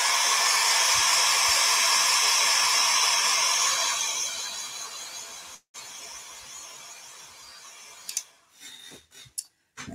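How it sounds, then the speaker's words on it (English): A hair dryer blows steadily and loud on a bird painting for about five seconds, then fades and cuts off, followed by a few short scrapes and bumps. "I'm gonna hit that with a dryer real fast"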